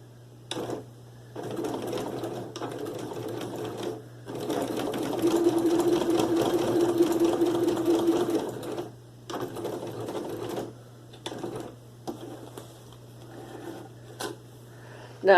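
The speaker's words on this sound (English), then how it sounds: "we're going to stitch straight across on this one too." A sewing machine stitches straight across a simple fabric bag, running in several close, steady whirring bursts separated by brief pauses, with a faint constant hum underneath.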